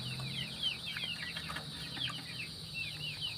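Breeder chickens in a coop give a run of short, repeated clucks and calls, with some wing flapping, over a steady low background hum; no one speaks.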